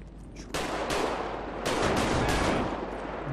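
Gunfire from the video game GTA 5 Redux: a burst of loud, sharp shots starts abruptly, then several more cracks follow in quick, uneven succession with rolling echoes and no talk.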